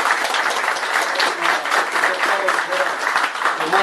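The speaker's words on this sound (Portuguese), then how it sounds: "Palmas para o Quirene." Dense crowd applause fills a political rally in São José, Santa Catarina, steady and sustained throughout with voices mixed in beneath the clapping.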